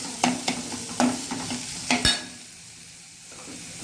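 Onion being sautéed in a pan, with several sharp scraping stirs and clinks of a spatula over a soft sizzle, then the sizzle continuing alone.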